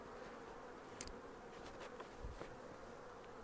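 Honeybees shaken off brood frames during hive work with queens fill the air with a dense, steady, close buzzing swarm, with a few brief knocks and bumps and no voices.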